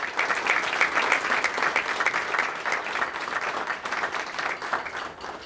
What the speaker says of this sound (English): Please join me in a round of applause for our guests